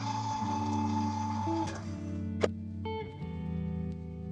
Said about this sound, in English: we're just gonna mix this on low until the eggs are all incorporated into that milk